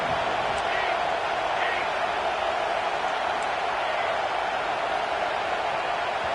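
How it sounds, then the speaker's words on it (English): A packed stadium crowd at a football game roars in a loud, unbroken wash of noise, with a commentator talking over it. "Listen to this crowd just shaking the girders of this place"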